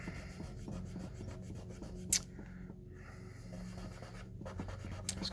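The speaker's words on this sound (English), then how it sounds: "just get a new piece of cotton, put a little more acetone on it" Soft, continuous scratchy rubbing as acetone-soaked cotton is worked across a playing card, quiet and close, with a brief sharper scrape partway through.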